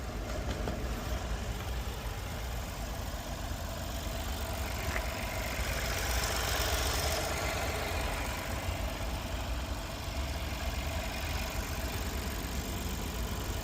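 An Audi A1 S Line's 1.0-litre 116-horsepower petrol engine idles steadily and evenly at close range, a low rumble with a light mechanical buzz and no change in pace.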